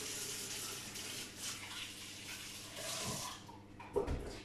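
Hands are rinsed under a running kitchen tap, a steady close gush of water with splashing that shifts near the end.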